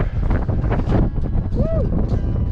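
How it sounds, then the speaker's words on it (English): Strong blizzard wind roars across a mountainside and buffets the microphone in a loud, continuous rush, with a voice briefly calling out over it. "It's so windy out here."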